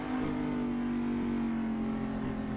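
A race car engine in the Assetto Corsa racing game at Road Atlanta drones steadily at a sustained, even pitch, a continuous close engine note with no talk over it.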